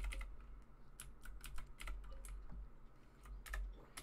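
Steady clicking of keys on a computer keyboard, quick uneven taps close by over a low background hum, with no voice.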